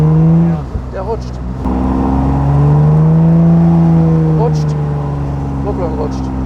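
Engine of a 1953 Aston Martin DB2 Vantage Drophead Coupé revving loudly with a slipping clutch, a steady droning tone that rises and holds while people talk over it.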